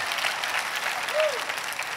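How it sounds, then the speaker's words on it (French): A church audience claps together in steady, full applause, with a faint voice rising briefly over the clapping. "Oh, applaudissez ça avec moi."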